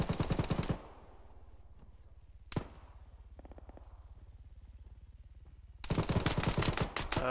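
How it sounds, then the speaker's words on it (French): Heavy automatic gunfire in the military shooter game Arma 3, loud dense bursts at the start and end with a single sharp shot between, separated by a quieter stretch of faint distant rattling. "T'entends les grosses rafales? C'est eux."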